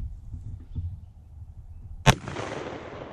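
A .44 Magnum revolver fired at a military helmet outdoors, one sharp, loud, close gunshot after a couple of seconds of quiet low rumble, followed by a broad decaying echo.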